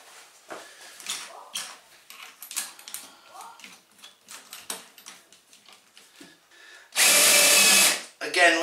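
Power drill countersinking screw holes in pallet wood, a loud steady whine lasting over a second that ends abruptly, following a stretch of scattered knocks and handling clatter nearby.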